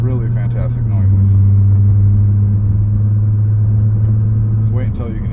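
A 2012 Nissan GT-R R35 with HKS blow-off valves, all-wheel drive, pulls under way from inside the cabin, giving a steady, loud low engine drone with a rising note partway through; a voice talks over it near the end.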